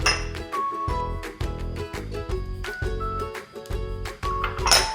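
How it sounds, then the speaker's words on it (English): A utensil stirs soybean paste in a bowl, giving quick repeated clinks and scrapes against the bowl in an uneven, busy rhythm, close and fairly loud, with no talk. "Give it a good stir."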